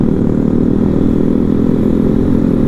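Old vintage motorcycles ride past on a road during a Sunday morning group ride, a loud, steady close engine drone with a rough, clattering mid-range growl that continues throughout.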